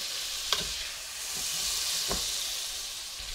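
Steady broadband sizzling hiss from 60 grams of butter with a spoonful of sugar frying in a hot pan, with a couple of faint clinks of a utensil against the pan.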